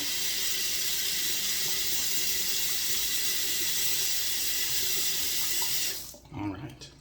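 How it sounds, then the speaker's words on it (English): Water runs steadily from a bathroom sink tap while a face is rinsed after a wet shave, a loud continuous close-up rush that cuts off near the end, leaving faint splashing and drips. "Let me just rinse off the face"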